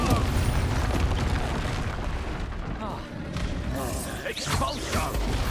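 Expulsion spell blast in Hogwarts Legacy, a heavy booming burst amid continuous loud combat noise, with a voice speaking and other spell effects crackling around it.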